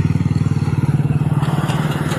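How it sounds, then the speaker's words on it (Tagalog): Motorcycles in traffic, a close, loud engine putting out a fast, even pulsing putter that runs steadily throughout. "Maraming mga motor dito guys."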